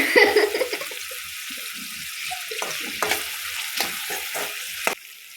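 Chicken chops gravy frying and sizzling in a pan, with a steady hiss and repeated scraping clicks of a stirring spoon, close and fairly loud throughout.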